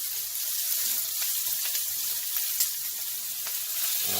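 Shrimp sear in a hot pan with a steady, bright hiss of sizzling oil, constant and close, with a few faint pops scattered through and no talking.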